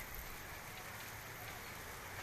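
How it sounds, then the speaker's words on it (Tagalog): Heavy typhoon rain hisses in a dense, steady wash, constant and even throughout with no voices. "malakas ang ulan, ay medyo umulan"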